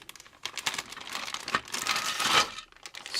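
Plastic bag taped to a model kit box, crinkled and rustled in the hands in quick, close bursts of sharp crackling that build toward the end.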